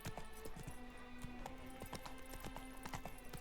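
Horse hooves gallop in The Witcher 3: Blood and Wine, a quick rhythmic clip-clop of repeated beats at moderate distance, fairly faint, with no talking.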